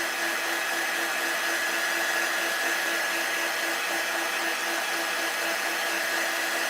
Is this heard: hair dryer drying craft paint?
yes